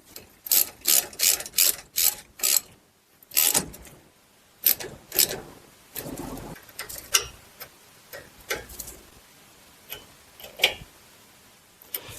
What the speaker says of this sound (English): Then we'll tighten both of these bolts to 27 foot-pounds.